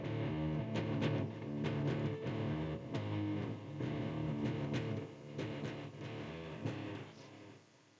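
Distorted electric guitar power chords play the opening two measures of a song, a steady, loud riff of chugging chords with sharp attacks, heard alone with no talking.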